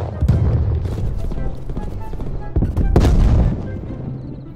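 A grenade and gunfire in the video game Call of Duty: Cold War, giving loud booms and sharp shots, with a heavy blast near the middle and rumbling explosions throughout.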